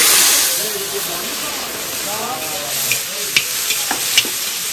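Z'endeck fish crackle and sizzle in hot oil, a steady frying hiss with a few sharp pops and spatters near the end, heard up close.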